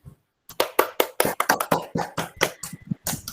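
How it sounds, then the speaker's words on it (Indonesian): A class claps for a group that has just presented its discussion results, a close, lively burst of hand claps with uneven rhythm after a short silence. "Tepuk tangan untuk kalian semuanya."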